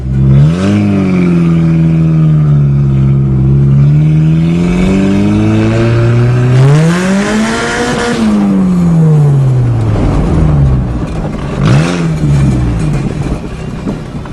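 A 1997 Mazda Protege engine revs loud and close in rising and falling sweeps, climbing hard near the middle and easing back before a final short blip.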